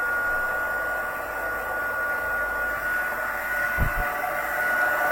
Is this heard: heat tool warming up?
yes